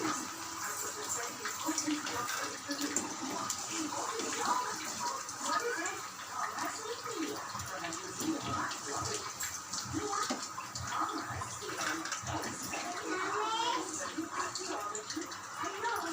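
Taro root pieces frying in hot oil, a steady dense sizzle and bubbling that holds throughout at moderate level, with a voice talking intermittently over it.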